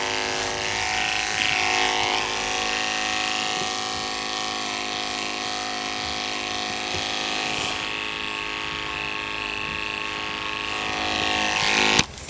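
Electric dog hair clippers run steadily, buzzing with a sustained tone as they take hair off a sleeping dog, with a brief louder touch near the end.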